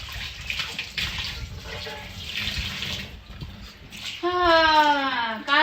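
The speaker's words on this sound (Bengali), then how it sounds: "মাছ ধোয়া শেষ এবারে চিকেন ধোয়া শুরু হবে" Tap water runs steadily into a home kitchen sink while raw chicken is washed under it, a close, continuous rush, with a brief high child-like voice rising and falling near the end.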